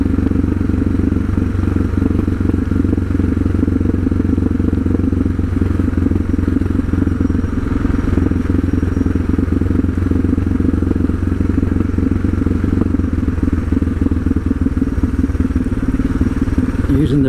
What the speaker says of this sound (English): Here I'm using the engine brake.